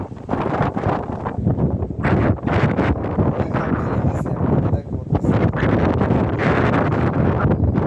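Strong gusty wind blows outdoors at night as rain sets in, buffeting the microphone with loud rumbling surges and brief dips that come and go throughout.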